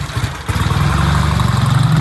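A Triumph TR6 motorcycle engine idling loud and close before a test ride, a steady low throbbing pulse with no speech.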